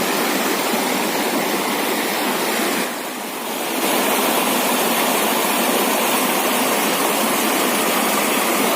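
Akunoor waterfall rushing in a loud, continuous roar of water, close and unbroken apart from a brief dip in level near the start.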